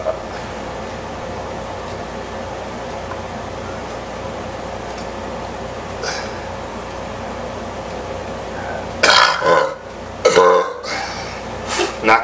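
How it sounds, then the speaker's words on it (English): After drinking a 16oz can of Red Bull, a person lets out a loud, close, drawn-out burp in a few bursts near the end, following a quieter stretch of background hum. "I have to burp to end this video."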